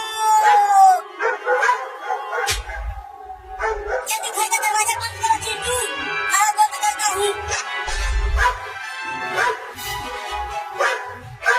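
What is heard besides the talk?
dogs barking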